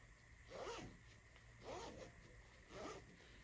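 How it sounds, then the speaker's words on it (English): A zipper being pulled closed on a fabric shoe-washing laundry bag, three separate rasping zip strokes about a second apart, close and clear. "toss your shoes inside of the shoe bag, and you just zip it up"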